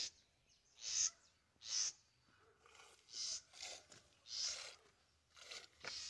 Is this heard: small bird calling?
yes